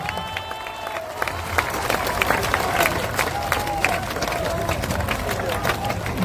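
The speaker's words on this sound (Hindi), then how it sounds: "जोरदार ताली बजाइए" A political gathering crowd breaks into loud, sustained applause, a thick mass of clapping mixed with cheering and crowd hubbub, while a voice carries on over the noise.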